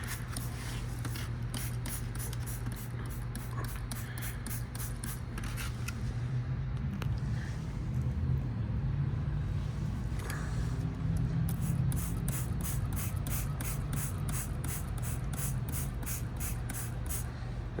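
Super Clean degreaser is sprayed from a trigger bottle onto a K&N air filter in repeated quick bursts, a long run of sharp hissing squirts with brief pauses between them, close up and fairly steady.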